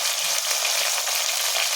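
Tomatoes hitting a hot pan for gummadikaya sambar, giving a dense, steady bright sizzle of frying that stays loud and continuous with no pauses.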